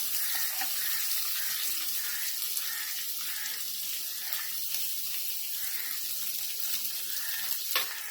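Chopped onion frying in oil in a pan for Maharashtrian kanda pohe, with roasted peanuts in the pan, giving a steady, close, continuous hissing sizzle with faint crackles and no talk.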